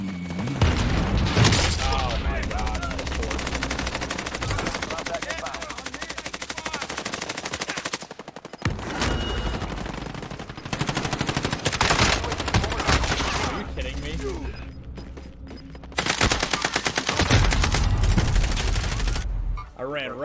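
Heavy automatic and rapid gunfire in a Call of Duty Warzone match, loud and sustained in dense bursts across the whole stretch with brief lulls, explosive booms mixed in, and a player's voice talking over the shooting.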